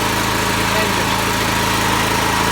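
Harbor Freight 13 HP engine repowering an M371 Bobcat runs steadily at about 3,200 RPM, a loud, close, even drone with a buzzing low hum and no pauses.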